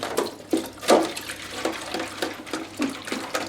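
Hand splashing and swishing a clear Lexan RC car body in warm, soapy dishwash water, with irregular wet sloshes and drips close by.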